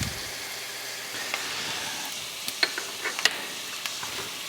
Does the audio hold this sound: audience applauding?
no